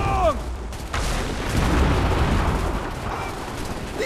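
Gunfire in Assassin's Creed III, with a few sharp shots near the start followed by a dense, rumbling spread of continuous battle noise and scattered bangs, loud and sustained.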